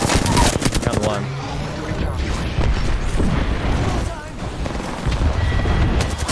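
Gunfire in Apex Legends as a team shoots a Bloodhound bot, with dense rapid bursts and loud continuous automatic fire mixed with mechanical clatter and booms.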